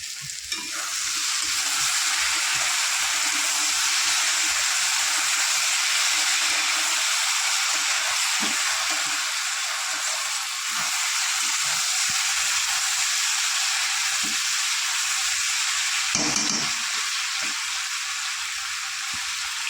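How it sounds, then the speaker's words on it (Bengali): Potatoes fry in oil under a lid with a steady, loud hiss and crackle that runs throughout, joined by soft clanks and knocks from the lid and pan, close up and without talk. "আমি একটা ঢাকনি দিয়ে ঢেকে ঢেকে ভাজবো"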